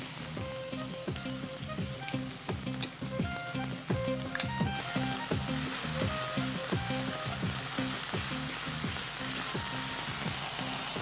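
Onion with ginger-garlic paste and tomato paste sizzles steadily in a pan, a constant crackling fry broken by rhythmic scraping as a spoon stirs, with no talking.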